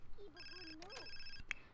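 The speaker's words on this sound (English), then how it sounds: "Who's ringing your phone?" A phone rings inside The Sims 4, a stacked electronic ringtone repeating over about a second and a half, mixed with the game's background music and a brief click near the end.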